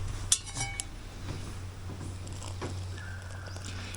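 A spoon stirs tomato-based food in a pot, giving one sharp clink followed by quiet, steady scraping and soft clatter against the metal, with low background hum and no talk.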